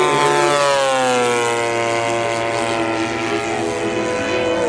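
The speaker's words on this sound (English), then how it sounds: "This is a gasoline-powered engine" A gasoline-powered engine on a P-47 model airplane hums steadily and loudly, a continuous buzzing drone with slowly shifting pitch and no talk over it.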